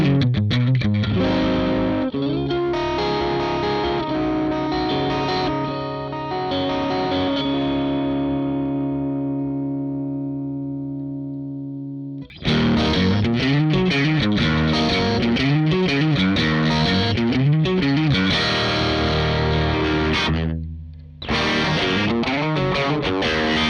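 Electric guitar through a 2020 Soldano SLO 100 amp on its overdrive channel, with moderate overdrive, treble at 6 and presence and depth at noon, playing thick distorted chords and riffs, including a long ringing chord that fades before driving chugging resumes.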